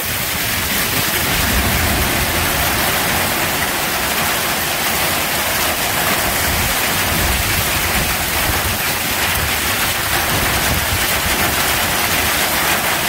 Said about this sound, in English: This is proper rain and hail.